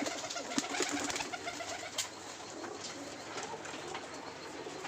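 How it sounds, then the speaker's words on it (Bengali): Large pigeons cooing in a group at a seller's coop, soft overlapping coos with wing flutters and shuffling, a steady nearby murmur of birds with no talking. "এই যে কবুতরগুলো দেখতে পারতেছেন, এই কবুতরগুলো সব বিক্রি করব"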